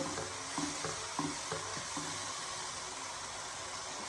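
Chopped carrots being stir-fried for tandoori pulao, a steady soft sizzle with faint scraping stirs at an even pace, close and quiet with no talk.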